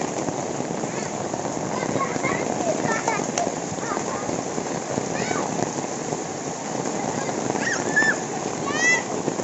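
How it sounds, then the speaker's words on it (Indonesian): Heavy rain pours steadily in a dense, loud wash on the first day of Lebaran while children bathe and play in it, their voices and shouts faintly mixed into the downpour throughout. "Alhamdulillah hujan gede."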